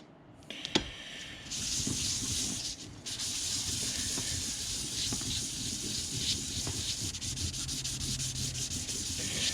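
Steady, close rasping of fine 1500 grit sandpaper rubbed by hand over a laser-cut utility knife piece, one sharp tap near the start, continuous scratching strokes running to the end.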